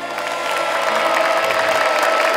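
Applause from a television studio audience for a panel of judges on a talent show, a dense steady wash of clapping and crowd noise lasting a couple of seconds without a break.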